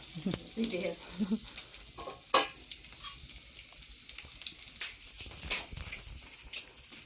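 Two eggs frying in a pan, a steady close sizzle with stirring and a sharp clink of a utensil, while people talk softly in the background.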